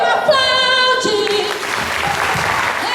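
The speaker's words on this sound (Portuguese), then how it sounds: "Aplaude!" Congregation applause at a worship service, a moderate wash of clapping that rises under a sustained sung or shouted note and carries on steadily afterward.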